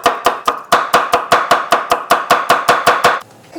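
A kitchen knife slices garlic thinly on a cutting board, a loud, close, even series of about fourteen sharp chops at a steady quick rhythm, then stops.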